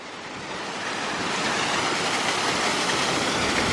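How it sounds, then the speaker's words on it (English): Surf and a waterfall pour into the sea on the Pembrokeshire coast of south west Wales, a broad steady roar of rushing water and breaking waves that swells slightly and holds loud throughout, with some wind buffeting the microphone. "Waterfalls into the sea."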